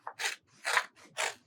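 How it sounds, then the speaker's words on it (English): Child-size scissors snip through paper during a preschool gingerbread man craft: four crisp cuts close by, each a short rasping snip separated by brief pauses, with no voices. "we're going to do cutting. Cut. Remember, turn your paper, keep your hand still."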